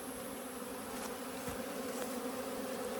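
Steady, dense buzzing of many aggressive bees close by at a hive, a continuous drone with no pauses.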